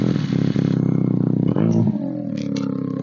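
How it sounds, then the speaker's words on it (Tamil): A Benelli 300cc superbike's exhaust rumbles loudly up close, a deep pulsing engine note that holds steady, then dips and settles into a lower idle-like throb. "கேளுங்க, எக்ஸாஸ்ட் நோட்டு பயங்கரமா இருக்கு."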